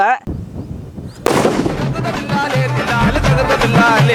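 A small homemade country firecracker goes off outdoors with a sharp, loud bang after a brief hush, followed by lingering crackle and background noise as people's voices carry on around it.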